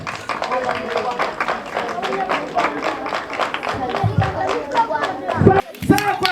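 A crowd of children claps in quick, uneven bursts for Rwandan women, with sharp hand claps mixed under steady voices calling out and chattering close by.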